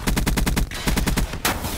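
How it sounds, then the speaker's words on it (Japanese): Automatic gunfire in the video game Call of Duty: Black Ops 3 comes in two rapid, evenly paced bursts of close, loud shots, broken by a short pause and followed by one more sharp report. "なんか銃声がちょっと分かりにくい"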